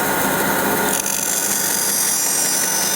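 A Laguna woodworking bandsaw fitted with a Resaw King blade starts up and runs: a loud, steady mechanical whir that gains a brighter high whine after about a second and holds it, no talking.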